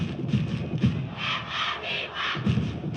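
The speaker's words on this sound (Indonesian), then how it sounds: "ini sorak-sorai dari para supporter terdengar dengan begitu bersemangat" Football supporters cheer at an under-16 match between Jordan and Thailand, a dense, steady roar of crowd noise with swelling bursts of shouting throughout.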